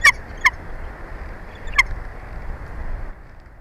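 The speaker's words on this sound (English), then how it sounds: "I have the live stream of the Big Bear bald eagle nest" Bald eagles calling at a nest, relayed through a live-stream speaker: a few short, sharp shrill chirps, two in quick succession and one more a second later, over steady room noise.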